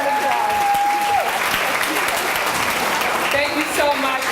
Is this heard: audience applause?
yes